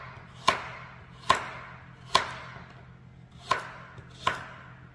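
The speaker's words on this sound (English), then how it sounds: "Hopefully the video doesn't sound too loud when I'm chopping." A knife chops carrots on a cutting board, five sharp, evenly spaced strikes ringing out clearly in a quiet kitchen with no talking.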